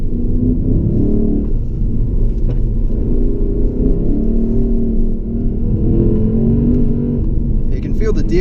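A 2016 Lexus GS F's V8 engine pulls hard under acceleration, with a steady, loud, deep rumble from inside the cabin that holds throughout.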